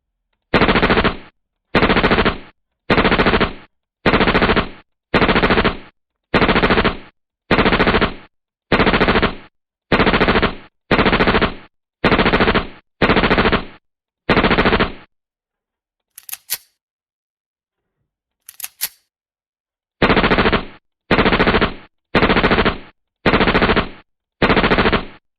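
Loud bursts of machine-gun fire from a training session, about a dozen evenly spaced volleys, a pause with a couple of faint clicks, then five more rapid bursts close up.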